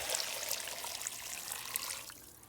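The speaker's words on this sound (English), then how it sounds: "So I'm going to add some water in here." Water pours into a cooking pot for fish soup, a steady soft trickling splash that fades slightly at the end.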